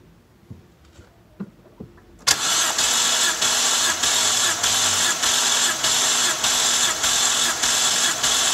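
An engine is cranked over with the starter during a compression test on cylinder 1. After a few faint clicks, a loud, steady, rhythmic cranking whir sets in and pulses evenly for about six seconds.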